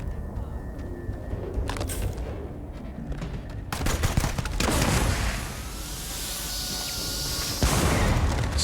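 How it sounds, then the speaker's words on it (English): Explosions from gas tanks blowing up in Starfield during the Ryujin Industries mission, heavy booms and crackling blasts layered with scattered gunfire, loud and near, filling the stretch with dense, overlapping bursts. "Stupid gas tanks exploding in my face."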